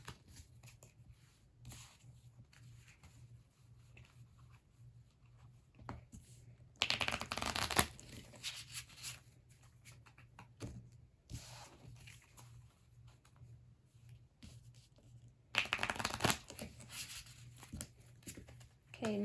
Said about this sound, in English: Now I'm going to shuffle these 2 piles together and then those 2.